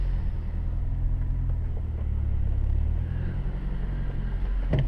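Steady low rumble of a Mazdaspeed 3 hatchback driving around the block, heard from inside the cabin, with constant engine and road drone throughout and no talking.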